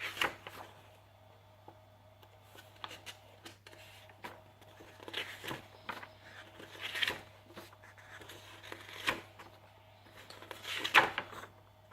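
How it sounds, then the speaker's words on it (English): Pages of a large He-Man and the Masters of the Universe Omnibus book being flipped in bunches, a series of soft irregular papery swishes and thumps over a faint steady hum, close and fairly quiet. "how long it took just to flip through that sort of bunches of pages at a time"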